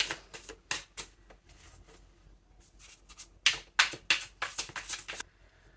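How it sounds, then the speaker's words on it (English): Tarot cards riffled and shuffled in several quick bursts, crisp papery flutters with short pauses between, close by and fairly quiet. "So I'm just going to cleanse my cards and give them a shuffle."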